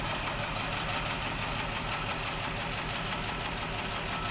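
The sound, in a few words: 1955 Pontiac Chieftain sedan engine running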